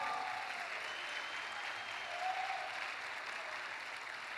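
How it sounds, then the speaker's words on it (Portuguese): A church congregation in Diadema claps together during a service, a soft, even wash of applause that holds steady from start to finish at a fairly low level. "Você pode dar uma salva de palmas ao Senhor?"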